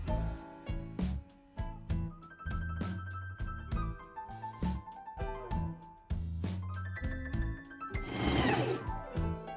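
A sewing machine runs a wide, slightly tight zigzag stitch joining elastic to fabric for a bralette, its needle hammering in a steady rapid rhythm with brief pauses and speed changes, close and clear with no talking.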